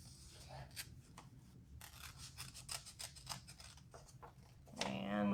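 Scissors snip paper repeatedly for a piranha puppet craft, a quick series of close, crisp cuts in uneven rhythm, with a short louder rustle at the end.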